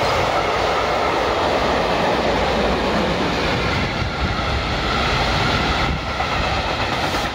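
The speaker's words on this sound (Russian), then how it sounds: "Поезд едет Амбер." A train bound for Amberg rumbles past close by in Sulzbach-Rosenberg, Bavaria, a loud continuous roar with rattling wheels and clacking carriages.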